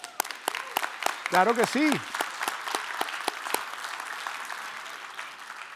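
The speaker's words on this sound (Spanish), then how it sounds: "Démosle un aplauso a esos varones." Church congregation clapping for the men during a sermon on raising children, a sharp burst of scattered claps that thins out over several seconds, with a voice speaking briefly near the start.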